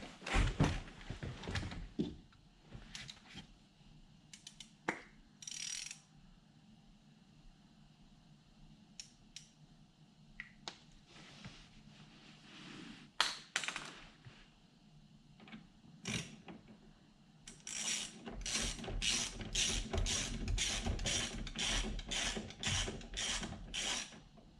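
Mechanical clicks, ratcheting and small tool sounds while reinstalling a new steering wheel in an Audi TT RS, intermittent near handling noises with a rapid regular burst of ratchet clicks toward the end; no talking.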